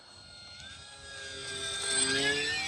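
E-flite Waco UMX radio-controlled biplane flying on a 3S battery in light morning wind, its small electric motor a rising whine that swells louder as it passes close, with no talk.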